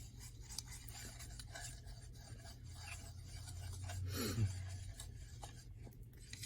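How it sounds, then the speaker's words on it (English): A utensil stirs a dish soap mixture in a small dish, making quiet scraping and rubbing strokes. A slightly louder swirl comes near the end. "we'll want to mix it up really good to the point where there's not any color left from the dish soap"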